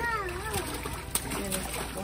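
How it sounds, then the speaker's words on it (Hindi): Children splash and play with water on a home balcony on a hot day, bursts of splashing and dribbling close by under near-constant child chatter and an adult's voice. "मैं पानी से खेल रही हूँ"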